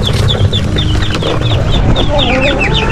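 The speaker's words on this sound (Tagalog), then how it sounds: "Ayan, nakapasok pala rin mga manok." Several chickens cluck close by, short repeated calls over a loud, rough background of grass-cutter noise and rustling.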